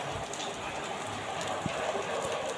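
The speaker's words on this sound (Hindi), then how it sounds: "बारिश काफ़ी तेज थी जबरदस्त बारिश थी।" Steady heavy rain pours down in a continuous hiss, with a few louder drops and splashes rising above it.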